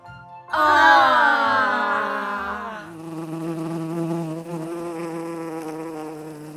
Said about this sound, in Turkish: Mavi çiçeğin üstünde bir arı var.